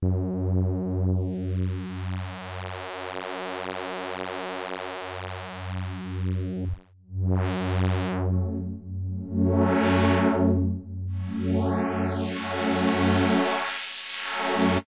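A droning synthesizer tone through a multi-mode filter morphing between band pass, low pass, notch and high pass, shifting the timbre through hollow, bright and muffled shades, with a brief dropout midway.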